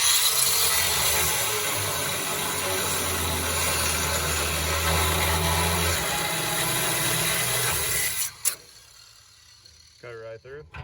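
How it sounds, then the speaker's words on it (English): A power saw cuts through the rusty bed of a Dodge Sweptline truck, a loud, continuous grinding rasp for about eight seconds that stops abruptly, followed by quieter handling noises. "Cut it right through"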